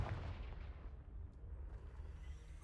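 A Confringo spell blast from Hogwarts Legacy bursts open at the start and rolls on as a steady low rumble, fairly quiet and heard alone without talk.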